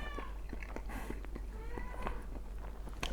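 A house cat meows several times in a row, close and fairly clear, with soft rustling and movement sounds between the calls.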